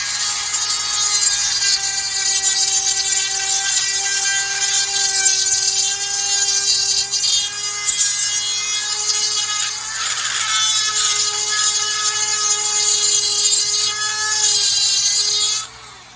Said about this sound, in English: take this little 1/8 inch grinder, and I'll just go right down to the edge of the hole